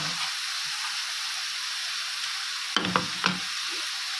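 Chicken and onions with spices sauté in a pan with a steady, close sizzle, broken near the end by a few brief stirring scrapes.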